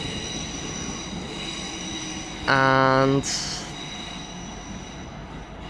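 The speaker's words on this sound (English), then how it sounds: "you can hear the rubbing of the contact shoe and the third rail together to give the train some motion or momentum." At London Euston, a train's contact shoe rubs along the third rail under a steady rumbling station wash, and a brief, sharp tonal squeal rises near the middle before settling back into the drone.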